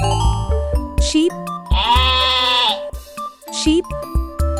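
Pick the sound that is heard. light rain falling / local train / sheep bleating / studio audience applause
sheep bleating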